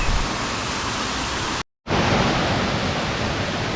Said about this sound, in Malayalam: മച്ചാന്മാരെ, അപ്പോൾ ഇതാണ് വെള്ളച്ചാട്ടം.